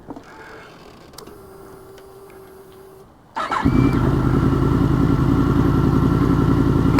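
Yamaha FZ-10 motorcycle engine cranks and fires up after a few seconds of quiet clicks and a faint tone, then settles into a loud, steady idle that runs to the end.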